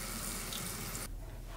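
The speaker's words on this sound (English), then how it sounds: "I'm just going to lift his head gently and just let the water drizzle over the" Steady running water from a tap drizzling over a pug's head during a grooming rinse, a close continuous hiss that drops away abruptly near the end.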